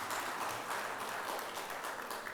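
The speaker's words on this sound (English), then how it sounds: "Let us have a big round of applause for our speaker." An audience applauds a speaker at the end of a session, with steady, fairly faint clapping that continues evenly throughout.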